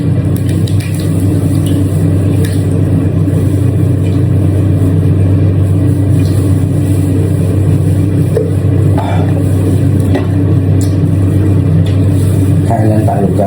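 Steady car engine hum heard from inside while riding, a loud continuous low drone throughout with faint traffic noise and no clear speech.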